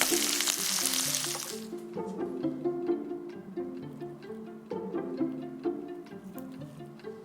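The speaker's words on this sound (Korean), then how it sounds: "고기가 레스팅하는 동안 꽈리고추를 볶아주세요" Shishito peppers stir-frying in a pan as a garnish beside rested grilled pork belly, with a loud sizzling burst at the start settling into steady crackling and repeated soft scraping of the peppers being tossed.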